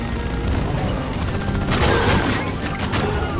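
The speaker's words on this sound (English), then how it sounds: "Just shooting." Gunfire in the co-op game Deep Rock Galactic, a dense, continuous roar of rapid shots with a louder burst midway, close and busy over a constant game background.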